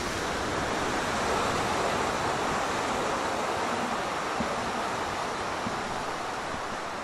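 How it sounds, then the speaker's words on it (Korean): Rough ocean surf roars continuously off the Galápagos, a broad, heavy wash of crashing waves with no pauses and no voices. "파도는 거칠고 위력적이죠"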